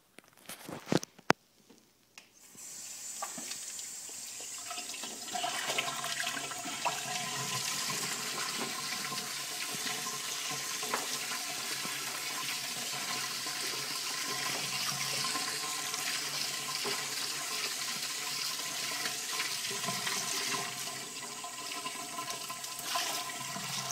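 Water runs and splashes steadily through about a gallon of waste-caked aquarium filter bioballs as they are rinsed, a continuous close hiss of flow lasting roughly twenty seconds with no talking.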